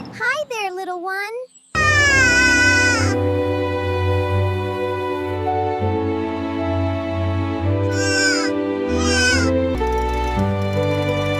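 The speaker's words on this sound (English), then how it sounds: "A little kitten!" A cartoon kitten in a children's animal story gives a short, high, wavering meow up close, followed by bright, loud music that carries on to the end.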